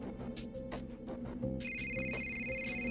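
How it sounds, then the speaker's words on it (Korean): A telephone rings in a video game, a repeating electronic ring tone in short bursts over a low steady background hum, with no talking. "전화벨 소리에 깨어났다"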